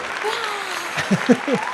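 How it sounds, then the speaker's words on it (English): Brief burst of crowd cheering and applause as a sound effect, a dense clapping wash with a few whoops and louder peaks toward the end, with a voice briefly over it. "And the crowd goes wild."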